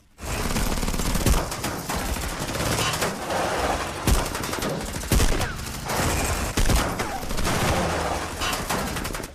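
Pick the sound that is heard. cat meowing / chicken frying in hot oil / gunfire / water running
gunfire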